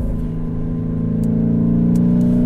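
A 2019 Lamborghini Urus engine accelerates on a track with a loud, continuous rising drone, close and steady throughout, with no voices.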